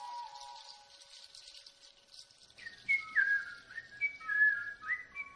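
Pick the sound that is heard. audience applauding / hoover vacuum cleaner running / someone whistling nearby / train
someone whistling nearby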